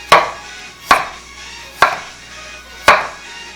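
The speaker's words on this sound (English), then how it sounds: "The radish, thin little slices." A knife cuts a radish into thin slices on a cutting board. Four crisp, separate chops land about a second apart, close up and clear, with no talking.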